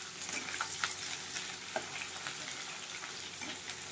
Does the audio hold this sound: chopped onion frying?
yes